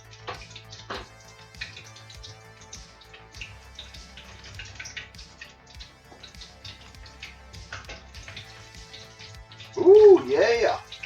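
Prawn balls sizzle in a pan of frying oil, a steady, fairly quiet crackle of small pops that continues until a voice speaks briefly near the end.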